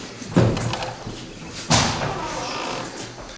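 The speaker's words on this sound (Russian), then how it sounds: "Открывает дверь." An office door is pulled open with two heavy thumps about a second apart, loud and close, followed by rustling and movement.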